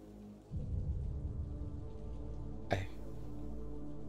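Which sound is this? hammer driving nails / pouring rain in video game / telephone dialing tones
pouring rain in video game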